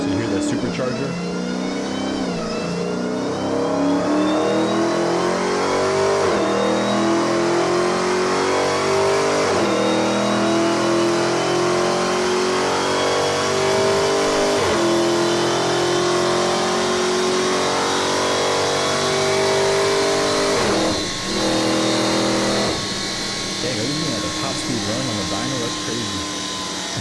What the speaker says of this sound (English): you hear that supercharger?